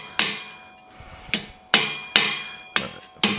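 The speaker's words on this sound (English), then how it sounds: "Or hammering on it when it's not red hot." A hammer strikes cold steel five times in an uneven rhythm, cold forging a steering part for a 1941 Mercury, each blow a sharp, bright metallic ring that decays quickly, close and loud in a quiet shop.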